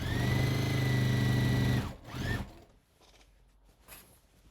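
A sewing machine sews an apron in a close, steady hum that cuts off abruptly after about two seconds. Faint handling and rustling follow.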